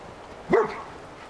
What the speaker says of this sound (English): there is a doggo here